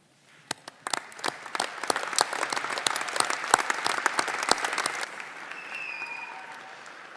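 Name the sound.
audience applause at graduation ceremony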